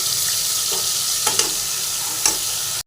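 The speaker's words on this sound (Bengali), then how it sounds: "ওই বাটাগুলো আমরা দিয়ে দিচ্ছি মশলা বাটাগুলো দিয়ে কষিয়ে নিই" Ground spice paste sizzles steadily in hot oil in a pan, with a few sharp scraping stirs cutting through the constant frying hiss, close and fairly loud.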